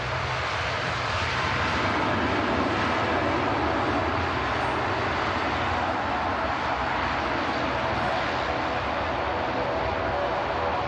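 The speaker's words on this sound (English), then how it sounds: "Singapore 350 departing on the south side." An airliner bound for Singapore departs from the south side of Manchester Airport, its jet engines sending up a steady, broad roar that holds strong and constant across the whole stretch, heard at a distance.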